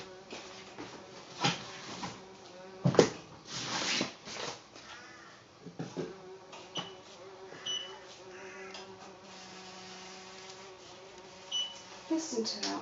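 A bee buzzes near a soap-cutting workspace, a thin, wavering drone that rises and fades as it moves about, broken by scattered clicks and bumps of work sounds.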